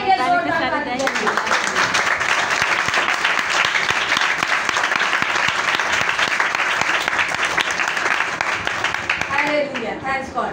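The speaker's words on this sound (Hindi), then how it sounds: "अब कलाम के लिए जोरदार तालियां।" Enthusiastic applause fills a church gathering, a dense, steady crowd clapping sustained for about eight seconds, with a speaker's voice just before and after it.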